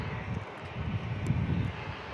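Turboprop engine drone of an Italian-made C-27J Spartan military transport plane at San Diego International Airport, a steady broadband roar holding at moderate distance throughout with no voices.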